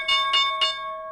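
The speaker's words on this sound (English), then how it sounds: "there's a bell." A stock market opening bell rings three quick bright strikes, then its tone hangs and rings on evenly in the clear.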